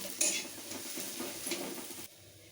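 Eggplant with a little salt and turmeric is stirred in a frying pan, a faint sizzle under soft scraping and clinking of a spatula against the pan, close and quiet with no voices.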